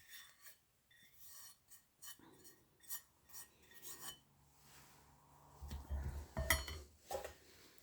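A spoon stirs xanthan gum into a homemade blood orange dish-soap liquid, making quiet rhythmic scraping and rubbing strokes against the container, then a louder clatter toward the end.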